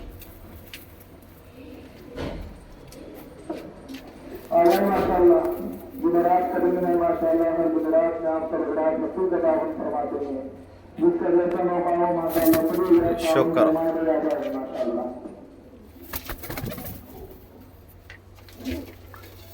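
Malwai pigeons coo in two long stretches of low, throaty warbling, fairly close, while someone talks intermittently nearby.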